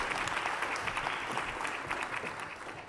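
Audience at a round-table health conference gives a sustained round of applause, a dense, even patter of many hands clapping throughout.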